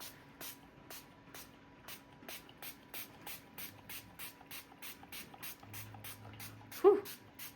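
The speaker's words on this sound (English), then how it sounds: "Then I'm going to spray this really dark ground espresso." Dark espresso-coloured ink is sprayed from a pump spray bottle onto paper in a series of about twenty quick, evenly spaced bursts, close by, with a small bump near the end.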